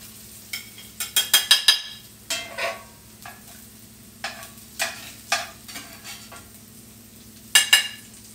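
Onions and peppers fry in a pan, a faint background sizzle under a run of close clattering utensil strikes and scrapes that come in bursts, then pause and resume, with no speech.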